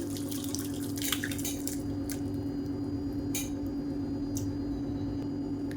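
Horse gram soup strained through a strainer makes wet dripping and squishing sounds, with scattered trickles and splashes over a steady low kitchen hum.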